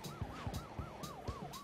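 An ambulance siren in The Stretchers video game wails up and down in a fast, repeating rise-and-fall pattern, loud and continuous, with low thumping game sounds beneath it.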